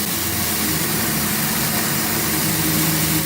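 A 2x72 belt grinder running at speed, a loud continuous whirring drone with a steady hum underneath, heard alone.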